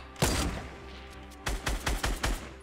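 Bursts of Fortnite gunfire: one loud shot, a short pause, then four quick, evenly spaced shots close up, with a low background hum.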